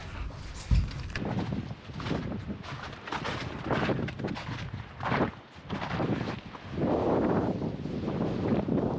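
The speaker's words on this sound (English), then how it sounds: "you can hear the wind, it's pretty bad" Strong wind gusts buffet the microphone outdoors on a snowy trail, rising and falling in loud rushing bursts with faint footsteps or rustling between.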